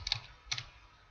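Two short bursts of computer keyboard keystrokes while entering code in Visual Basic 2010 Express, quiet and close, with a pause between them and no talk.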